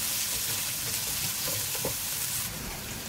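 Egg and onion sauce for yam frying in a pan with salt being stirred in, a steady loud sizzle with soft scraping of the spoon, no voices.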